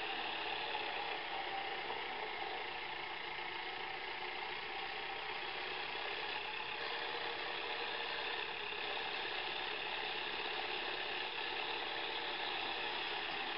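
A Zetor tractor engine idling in a farming video game, a steady mid-pitched mechanical hum with a faint rattling texture, running evenly and alone throughout.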